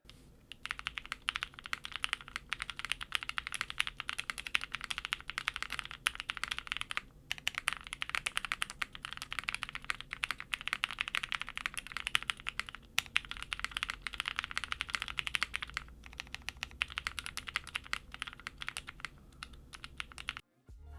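Rapid, continuous typing on a Glacier 80 mechanical keyboard with its case foam removed gives a dense stream of close, crisp clacks with a few brief pauses, then stops near the end.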